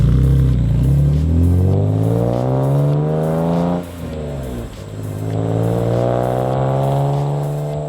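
A BMW E46 M3 with a Supersprint exhaust revving loudly up close: the engine climbs to a high wail, drops off, then builds again in a second long rising rev.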